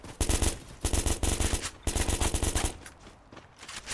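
Rapid automatic gunfire in a video game, dense bursts of shots fired in quick strings with a brief pause between them, loud and close, then trailing off into sparser pops.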